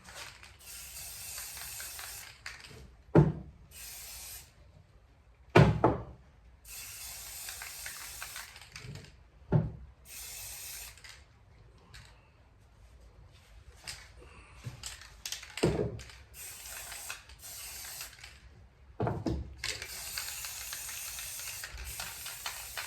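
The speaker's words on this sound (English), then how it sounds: "As before, a bit of squirts, paint, black spray paint. This one's flat black." Flat black spray paint hisses from an aerosol can onto a ventilation panel for a snake enclosure, in several separate bursts with quiet handling noise and faint clicks in between.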